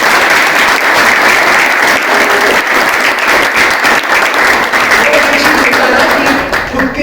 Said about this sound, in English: please big clap for Sachin.